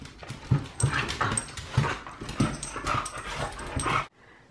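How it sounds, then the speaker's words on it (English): A pet dog whimpers and yips indoors in a series of short, close, moderately loud cries with soft panting between them, ending abruptly. "This is Rosie, my brother's dog."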